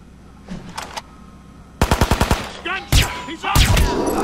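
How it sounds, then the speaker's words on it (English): Gunfire in the video game Hitman Absolution: a loud rapid burst of automatic shots, then further sharp heavy shots, close and punchy after a quieter opening. "Gunshot! He's up!"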